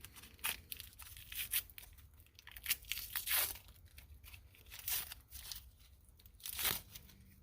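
Roller bearings being unwrapped from wax paper in a workshop, bursts of crisp crinkling and tearing paper at irregular intervals, close and fairly quiet, with no speech.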